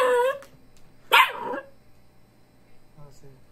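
A dog barks twice, a sharp near bark at the start and a louder one a second later, followed by faint yips, in a quiet space during work on a drift car.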